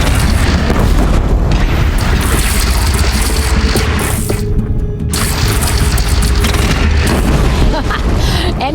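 Heavy booming cannon fire and explosions in the video game Horizon, a dense, loud, continuous battle din of deep blasts and crashes, with voices shouting amid the fighting.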